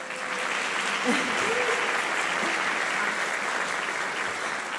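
Audience applause on the opening night of a school play, The Little Red Hen and Honk Jr., a steady wash of clapping that holds at an even level for the whole stretch, with a faint voice briefly underneath.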